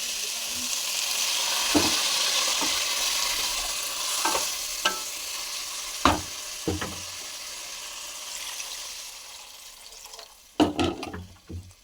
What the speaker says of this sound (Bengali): আমি এবার এর মধ্যে জল দিয়ে দেবো।